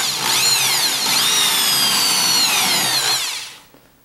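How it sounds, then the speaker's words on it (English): A power drill bores through a paracord hat brim with a steady, loud whine for about three seconds before spinning down and stopping. "And then I'm just going to drill."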